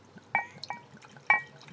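A drink being poured at a party, heard as a few light, separate liquid drips and splashes into a glass, close and fairly quiet with short gaps between them.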